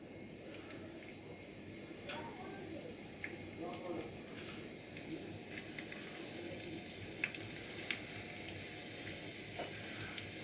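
Garlic sizzles in hot oil in a wok, a quiet, steady crackling hiss with scattered pops running throughout, while a person talks over it.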